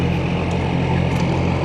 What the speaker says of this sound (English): It's a little warm out, reefers are all running,